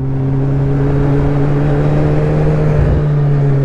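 A superbike engine droning steadily while riding at night in Tamil Nadu, a loud sustained hum with a constant pitch and a slight dip near the end, with no talking.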